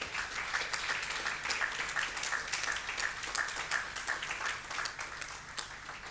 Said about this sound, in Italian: Se volete fare un applauso è gradito.